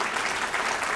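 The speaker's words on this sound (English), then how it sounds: "Round of applause, please, for my mother" An audience applauds at a live show, a dense, even wash of clapping from a crowd that holds steady for the whole second.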